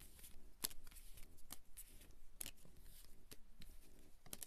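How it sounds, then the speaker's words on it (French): A deck of tarot cards is shuffled up close, with soft riffles and crisp slaps repeating at an uneven pace, quiet and alone in a still room. "Je vais récupérer mes cartes"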